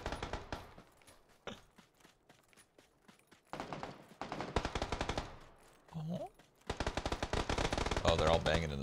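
Rapid automatic gunfire inside a building in PUBG, loud bursts from an M4 and other weapons cracking in dense volleys with short pauses, footsteps between, and players talking over it.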